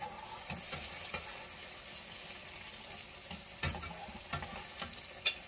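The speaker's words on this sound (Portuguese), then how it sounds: "Já tá borbulhando." Korean bean soup simmering in a pot, giving a steady soft bubbling and frying-like crackle with scattered louder pops, fairly close and moderate in level, no talking.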